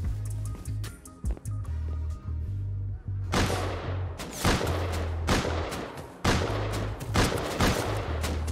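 Rapid AK rifle gunfire in the Rust video game, with several sharp bursts of shots over a low rumbling background and no talking.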